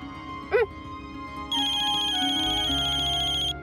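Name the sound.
mobile phone ringtone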